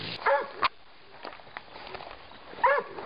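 A working dog chasing a pig gives short, sharp barks in quick pairs, pauses, then barks again. Faint footsteps and rustling fill the gaps.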